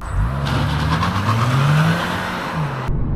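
A 150 PS Cupra Leon 1.5 eTSI mild hybrid with DSG gearbox accelerates hard from 0 to 100 in sport mode, its engine note rising steadily close by and then cutting off abruptly near the end.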